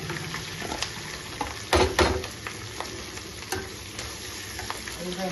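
Green chillies and onion pieces sizzle in a hot pan of oil for a tamarind onion curry, a steady frying crackle punctuated by louder scraping stirs of a spoon against the pan.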